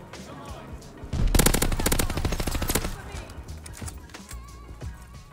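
An M1928 submachine gun fires in Call of Duty Vanguard, one loud rapid burst of about a second and a half followed by fainter scattered shots, with a player talking over the game.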